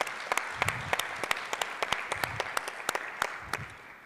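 An audience at the Vodacom Future Ready Summit 2025 keynote applauds, a sustained bed of clapping with sharp individual claps standing out, filling the room and fading slightly toward the end.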